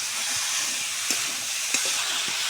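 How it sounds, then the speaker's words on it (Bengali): Jhinge (ridge gourd) and potato sautéing with spices and salt in a pan, a steady broadband sizzle with a few soft stirring knocks, close and continuous. "লবণ দিয়ে আরও কিছুক্ষণ আমি কষিয়ে নেব"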